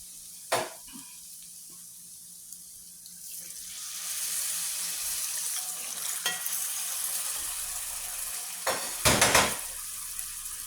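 Water poured from a glass into a pan of dried fish cooking in kodampuli tamarind solution, a soft sizzle rising into a steady gushing splash, with a few sharp clinks and a final louder burst of pouring.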